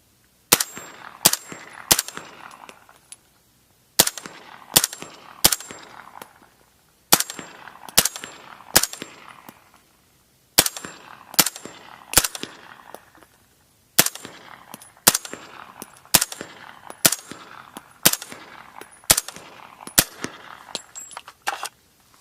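Suppressed 300 Blackout rifle fires outdoors in quick bursts of two to four sharp cracks, followed by a ringing metallic ping after many shots, loud and close, separated by short quiet gaps.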